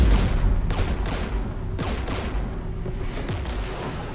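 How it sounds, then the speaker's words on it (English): Rapid gunfire crackles in the video game Mass Effect 3, a dense, continuous fusillade of overlapping shots with sharper cracks standing out at irregular intervals. "We're taking fire."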